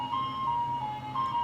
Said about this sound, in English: chasing the ice cream truck.